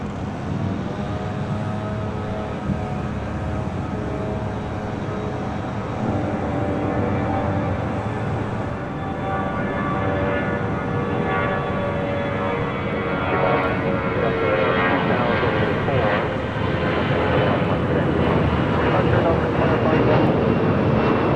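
A Delta Airbus A319 takes off from runway 6 right at LAX at night, its engines a steady loud roar that holds and slowly builds over twenty seconds.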